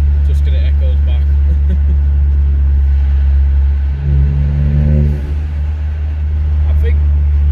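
A Mk8 Ford Fiesta fitted with a turbo hard pipe drives through a tunnel, its loud steady engine drone echoing continuously from inside the cabin, with a voice speaking over it partway through.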